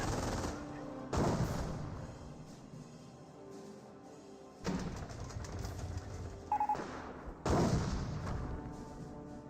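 Gunfire from a Company of Heroes 1 battle arrives in several loud, sharp bursts separated by quieter gaps, with rattling volleys overlapping a busy game soundscape.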